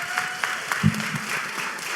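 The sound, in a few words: audience applause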